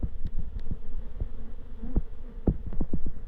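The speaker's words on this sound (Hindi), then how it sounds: "यहाँ से मेलिफेरा मधुमक्खी का स्वार्म निकलता हुआ" A swarm of Apis mellifera honeybees pours out and spreads through the air, high up around sixty feet. It gives a continuous buzzing drone with scattered soft knocks and bumps, and no voices.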